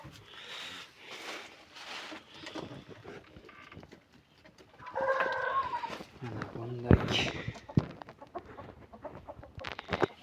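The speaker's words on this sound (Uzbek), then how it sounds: "Biz sizlarga mana bunday qora tovuqlarni ko'rsatib o'tamiz." Black hens and larger chickens at a poultry yard in Andijan cluck softly in the background while someone speaks over them for most of the stretch.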